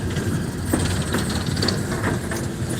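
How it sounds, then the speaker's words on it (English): Train engines rumble steadily as they cross Main Street at Mount Hope, West Virginia, a continuous mechanical drone with faint rail clatter and knocks, close and unbroken, with no talk. "The engines are now crossing Main Street."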